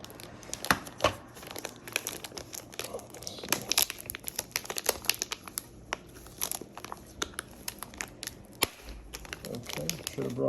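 Crinkly plastic packaging around a Brother compact wireless duplex scanner crackles and tears in sharp, irregular bursts, close by, with occasional pauses between pulls.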